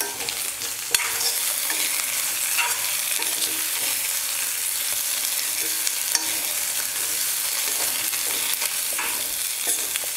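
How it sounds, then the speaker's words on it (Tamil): Potatoes sautéing in oil with softened onions, a constant close sizzle broken by frequent scraping and stirring clicks from a utensil, with no talking. "உருளைக்கிழங்கு சேர்த்ததுக்கப்புறம் கொஞ்ச நேரம் வந்து இந்த எண்ணெயில் வந்து நல்லா வதக்கிக்கலாம்."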